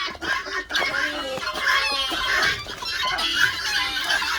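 Guinea fowl let outdoors into fresh snow for the first time after ten days shut in keep up a steady flock clucking and chattering at moderate distance, busy and continuous for several seconds.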